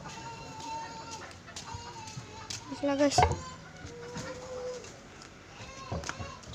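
A live chicken gives a few soft clucks near the middle, fairly faint against outdoor background noise. People are talking nearby.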